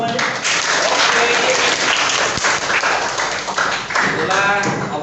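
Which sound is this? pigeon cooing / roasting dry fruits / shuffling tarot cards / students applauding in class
students applauding in class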